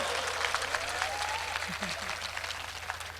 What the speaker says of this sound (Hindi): ताली बजा के बताओ मुझे